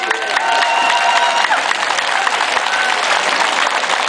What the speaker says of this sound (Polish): Jeszcze raz brawa dla pań.